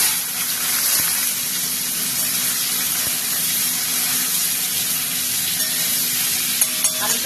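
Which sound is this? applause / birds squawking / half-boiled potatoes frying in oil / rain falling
half-boiled potatoes frying in oil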